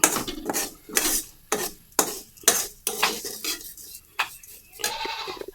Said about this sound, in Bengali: শুকনা শুকনা ভাজতেছি রে বাবা, তেল দেইনি